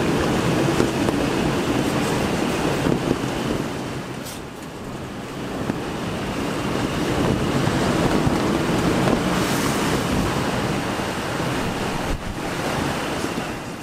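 A sailboat motoring through choppy swell in strong, gusting wind off Iceland, with steady roaring wind buffeting the microphone and the constant wash of waves against the hull, loud and continuous with no voices.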